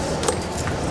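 Car keys jangle briefly as they are handed over, a short metallic rattle up close against steady background noise.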